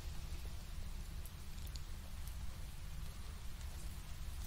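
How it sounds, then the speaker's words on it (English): Steady rain ambience, a continuous soft wash of falling rain with low rumbling texture and occasional faint drop ticks, even in level throughout with no voices. "It's really rainy."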